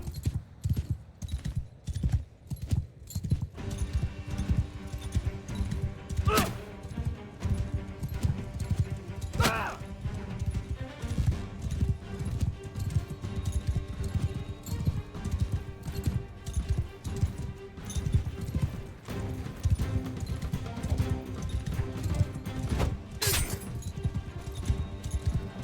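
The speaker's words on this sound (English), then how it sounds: "Oh, I see a horse." Horse hooves clip-clopping in a video game, a steady rhythmic trot of hoofbeats running throughout, fairly close and prominent, with occasional sharper impacts and a few faint background game sounds.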